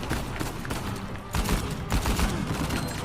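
Rapid gunfire bursts and booms from the video game Uncharted 4 crackle continuously in a dense, chaotic firefight at moderate volume.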